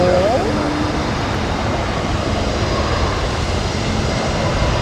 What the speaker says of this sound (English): that was a hard landing, wasn't it?